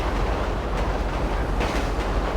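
A train rolls along the rails in GTA V with a steady, dense rumble and faint clickety-clack, close and continuous with no voices.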